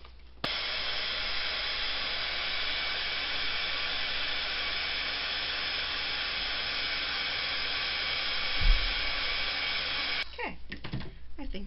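A heat tool blows steadily on a stamped greeting card for about ten seconds, a loud even broadband whoosh that starts abruptly and cuts off, followed by brief handling clatter.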